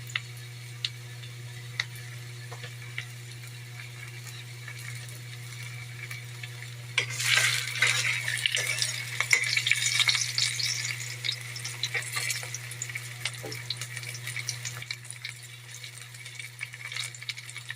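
Boneless milkfish, bangus, drops into hot oil and bursts into a loud crackling sizzle that stays busy and bright, after a quieter stretch with a steady low hum underneath and no speech.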